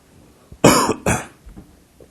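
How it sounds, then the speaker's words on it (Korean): Two sharp, loud coughs close up, brought on by incense smoke, coming in quick succession with a short pause between them and a little faint throat noise afterward. "향 좀 꺼줘. 기침 나서."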